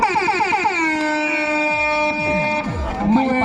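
A loud, sustained horn blares at a village kabaddi match. It holds one long droning tone for several seconds while a commentator talks over it.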